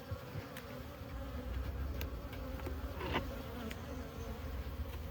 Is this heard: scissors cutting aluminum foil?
no